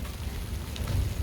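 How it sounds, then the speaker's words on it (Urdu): Heavy rain pouring down outdoors during a sudden downpour, a dense, steady hiss of drops with a low rumble underneath, close and unbroken, with no voices. "بارش کی آواز سنیں, بارش ایک دم سے تیز ہو گئی"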